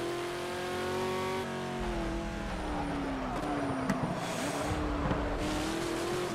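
A Ford MkIV race car in Project Cars runs at Bathurst, its engine a steady, close, loud drone that shifts pitch through gear changes and throttle lifts, with faint tire and mechanical noises behind it.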